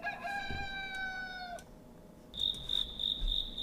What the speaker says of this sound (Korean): 귀뚜라미다 야 귀뚜라미 소리